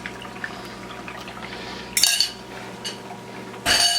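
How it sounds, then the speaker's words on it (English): Six beaten eggs pour into a hot pan for an omelette, a soft liquid splash and sizzle breaking out loudly twice, each burst brief and close over a steady low kitchen hum. "when you're throwing these eggs in, you got to have your spatula ready to go"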